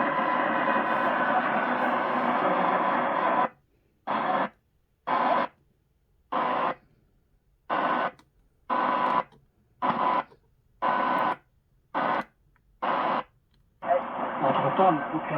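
Sony ICF-SW7600GR shortwave radio tuned to a foreign broadcast, steady hiss and voice-band signal that breaks into a rapid series of sharp on-off chops before the steady reception returns.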